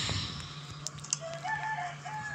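In the video game Granny: Chapter Two, a chicken crows and clucks close by, its calls rising in pitch, over a steady low hum in the background.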